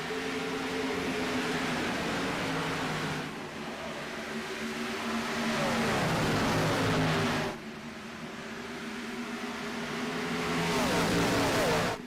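Race car engines in a sim racing video game roar continuously, swelling and falling in repeated passes as the field gets back up to speed under a green flag, loud throughout with no talk.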